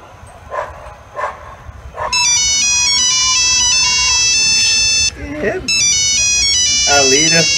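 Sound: phone ringing while placing a call

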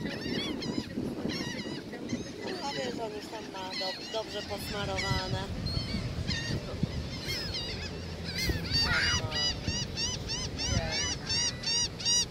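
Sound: seagulls calling near people feeding them snacks

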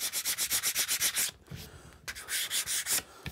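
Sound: hand sanding wooden mallet with rough sandpaper

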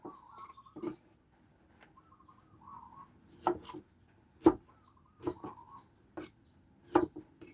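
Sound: slicing lemons

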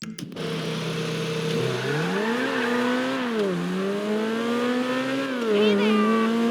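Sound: car engine revving in video game

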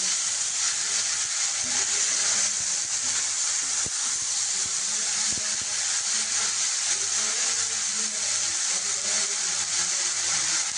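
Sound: coconut ash gourd pieces frying in a pan

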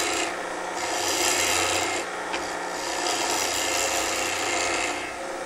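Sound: wooden pen blank being turned on a lathe with a tool

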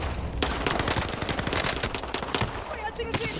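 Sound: gunfire exchange in video game Call of Duty Warzone

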